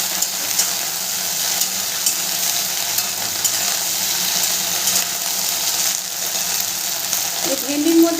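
Sliced okra sizzles in hot oil in a pan over a medium gas flame, a constant bright crackle with occasional scrapes and taps of stirring, close and steady throughout.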